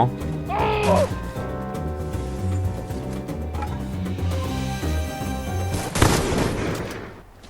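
Video game gunfire crackles in bursts over a steady game music bed, with one sharp, louder volley close to the end.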